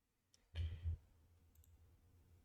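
A computer mouse clicked during a laggy online Magic card game, a few faint, sharp clicks near and alone over a low hum, with a soft thump among them.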